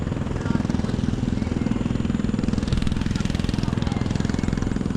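A grass cutter runs in a wide field of overgrown weeds and grass, its small engine giving a steady, close, buzzing drone that holds without a break.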